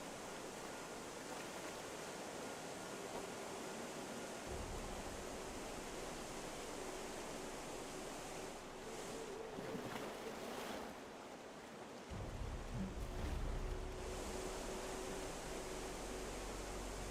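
A waterfall in the video game Gothic 1 Remake gives off a steady, broad rushing roar that continues without a break and grows slightly heavier toward the end, with no voices over it.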